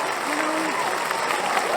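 Audience applause and clapping from a crowd at a live show, sustained dense clapping with a voice speaking briefly over it.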